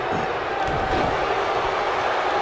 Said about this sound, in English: The crowd does not sound impressed at this moment.